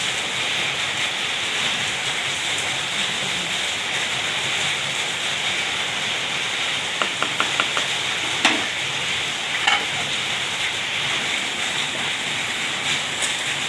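Bitter gourd sizzling and frying in a pan as it is stirred with coriander powder, a steady hiss throughout with a few sharp scraping clicks of the spoon near the end.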